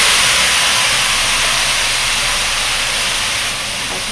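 Vegetables tossed into hot oil with fried panch phoron and bay leaf give a loud, steady sizzling hiss that fills the whole stretch without pause, easing only slightly near the end.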